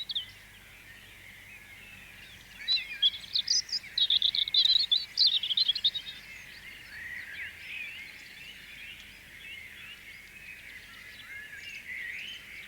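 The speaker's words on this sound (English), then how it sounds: "Half a dozen male robins are singing defiance at each other from the safety of the yew bushes." Several male robins trade defiant song phrases from yew bushes in an old garden, bright trilling bursts rising loudly midway then thinning to fainter distant song and insect-like hiss.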